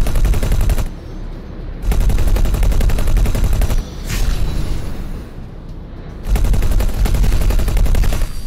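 Sustained rapid gunfire bursts in the space combat game X4: Foundations, loud and dense, alternating with brief quieter gaps where a smart missile whooshes past.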